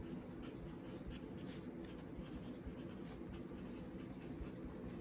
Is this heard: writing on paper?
yes